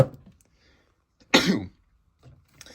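A single sharp cough bursts out close by, preceded and followed by near silence and faint breathy sounds.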